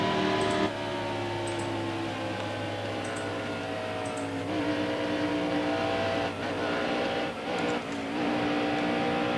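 Race car engine held on the throttle in a NASCAR video game, a loud sustained buzzing drone with steady pitch that dips briefly as the car eases off and then pulls again.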